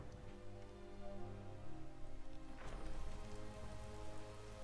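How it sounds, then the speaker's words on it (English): Rain falling in the game Skyrim: a steady, dense patter under held tonal game music, moderately loud and even throughout, with a slight swell near the middle and no speech. "It's also a lot of rain."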